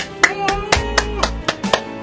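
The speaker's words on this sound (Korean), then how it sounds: "일단 박수!" A few people clap in a quick, bright rhythm, about nine sharp claps over two seconds, close and distinct, marking a first-anniversary message.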